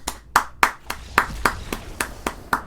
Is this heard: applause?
yes